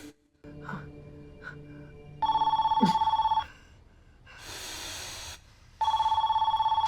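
A telephone rings in two steady electronic bursts separated by a pause of other sound, moderately loud, heard against a television show playing in the background.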